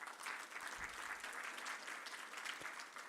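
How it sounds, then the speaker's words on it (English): Sustained applause from a room full of attendees at an African construction law conference, a steady dense wash of clapping filling the room at moderate level with no talk over it. "A hand of applause for everyone in this room."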